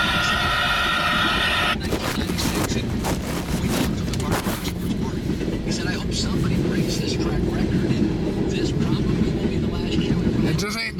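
A train rumbles past on the track, a heavy, steady low roar with rattling and clanking throughout, loud and close, with voices faintly underneath.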